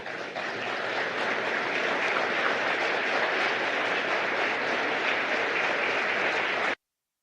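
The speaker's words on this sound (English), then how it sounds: "join us in a huge round of applause as they take their leave" A large audience at the India-Japan Joint Economic Forum applauds steadily as dignitaries leave, a dense, even wash of clapping that holds for several seconds and then cuts off abruptly.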